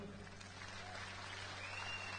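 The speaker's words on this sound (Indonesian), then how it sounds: "Kasih tepuk tangan dulu" An audience at an Islamic religious talk by Ustadz Yusuf Mansur claps for a guest, a faint, even patter of applause heard from a distance.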